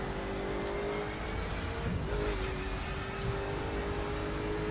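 Koenigsegg Agera R hypercar in the racing video game The Crew, a steady loud engine drone that holds a constant level throughout, with a brief swell partway through and no talk.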